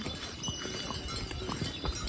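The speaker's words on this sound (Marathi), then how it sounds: "या बघ लाईन येत 9 घोडं." A line of nine horses walks along a mountain trail between Kedarnath and Chopta, their hooves clip-clopping in a steady, uneven patter at close range, with a faint murmur in the background.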